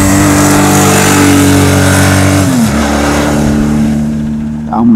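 A Benelli 900 Sei six-cylinder motorcycle engine revving, a loud, close, steady mechanical drone that holds high revs, then drops in pitch partway through and settles at a lower tone before easing off.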